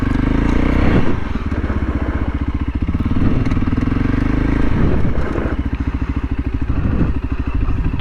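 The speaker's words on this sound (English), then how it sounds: "I want to practice a bit of skidding in straight lines first" A dirt bike's engine drones steadily at low speed, rising and falling in pitch with throttle changes as the rear wheel skids in straight lines, with loose scraping and clatter from the ground.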